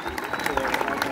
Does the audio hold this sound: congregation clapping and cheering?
yes